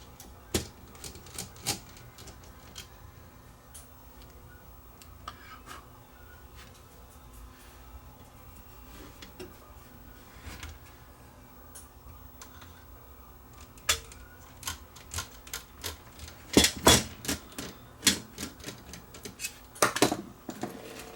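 A Sony DSR11 DVCAM video deck with a tape-acceptance fault whirs and clicks as its mechanism tries to load a tape, quiet at first, then louder bursts of mechanical clatter and knocks toward the end.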